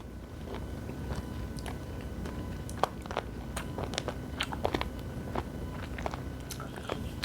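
Raw abalone sashimi, dipped in soy sauce, is bitten and chewed up close. Scattered sharp crunchy clicks rise over a soft, steady chewing background.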